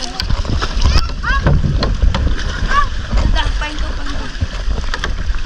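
Outboard motor on a loaded wooden bangka boat running on open water, a rough low engine rumble mixed with wind buffeting and splashing, with people talking and shouting over it.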